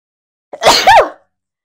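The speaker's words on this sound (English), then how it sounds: "Goodness, three sneezes." A single loud, close sneeze erupts after a brief silence, a sharp intake followed by a forceful burst that cuts off abruptly, with quiet on either side.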